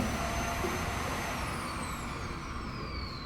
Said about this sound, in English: I can use this on my SmartThings app to run the cleaning cycle on my jig vacuum cleaner